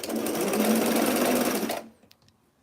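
A sewing machine stitches a T-shirt seam in a fast, steady, close-up whir that stops abruptly, leaving near silence with a few faint clicks.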